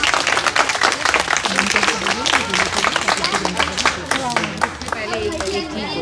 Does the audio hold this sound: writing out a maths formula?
no